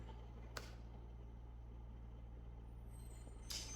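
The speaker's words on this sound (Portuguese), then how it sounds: "tinha que passar um caminhão agora" A truck passes outside, a faint, distant low rumble that runs steadily throughout, with brief hissing bursts near the start and again at the end.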